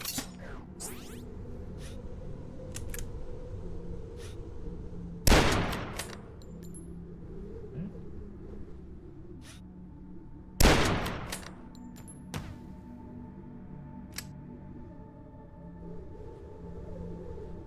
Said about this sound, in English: it sounded like bullets were whizzing by my head